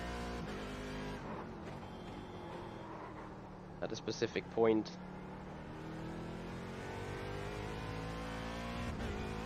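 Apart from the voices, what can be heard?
race car engine and traction control in iRacing video game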